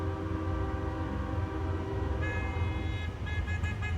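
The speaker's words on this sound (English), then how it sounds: "Oh yeah, it's a horn battle." Freight train horns sound in Manteca as a rumbling train passes, the drawn-out horn tones swelling over the engine noise and then breaking into short blasts near the end.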